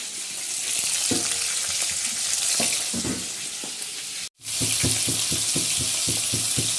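Radish sizzles loudly in a hot pan, a steady crackling hiss with rhythmic scrapes of stirring, briefly cut off midway before resuming.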